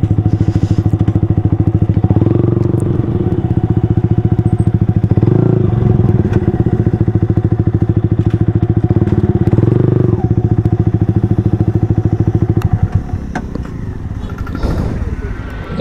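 Motorcycles, including an R15 V3, ride in a group along narrow paddy field ridges, giving a loud, continuous engine drone with bumps and clatter from the rough track before the sound eases near the end.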